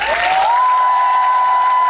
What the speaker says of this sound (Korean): 조금 더 큰 박수 부탁드리겠습니다.